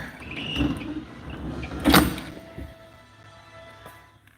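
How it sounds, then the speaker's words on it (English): A door in an escape room's back hallway swings shut with one sharp thud partway through, over a low, muffled ambient background. "Gotta shut the door."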